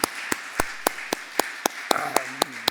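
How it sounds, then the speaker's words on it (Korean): A few people at a church dawn prayer service clap in sharp, widely spaced single claps, about ten distinct hits at a steady pace, close and crisp, with a brief faint voice partway through. "한번 격려의 박수 한번."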